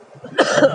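A person with a cold coughs once, a close, harsh burst after faint background sounds, during an Indonesian motorcycle ride through Karangasem.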